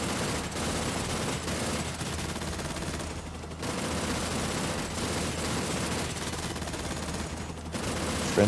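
Sustained rapid assault rifle fire in the video game Terminator 2D: No Fate, a loud continuous rattling stream of shots with brief pauses between bursts.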